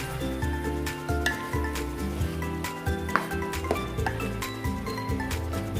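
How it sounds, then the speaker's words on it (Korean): Beef stir-frying in a pot for Korean spicy beef and radish soup gives a steady close sizzle with occasional scrapes and clinks of stirring, alongside continuous tonal sounds throughout. "이제 소고기가 익을 때까지 잘 볶아주세요."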